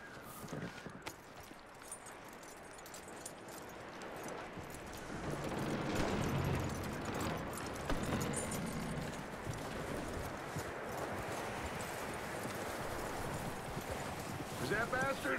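Horse hooves clip-clop at a steady walking rhythm in Red Dead Redemption 2, fairly close, under wind and ambient noise that swell midway, with voices speaking over the steps.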